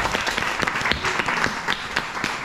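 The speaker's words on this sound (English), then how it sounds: "Give her a big round of applause, Aideen on the fiddle." An audience at an Irish music and dance show claps for a fiddle player, a short burst of moderately loud applause with scattered sharp claps and no talking.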